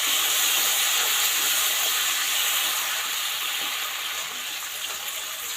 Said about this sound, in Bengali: ভালোভাবে একটু কষিয়ে নেব